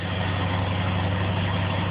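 A Fiat 126p Maluch engine, started by push button, idles steadily and loudly up close with a deep, even rumble and no pauses or voices.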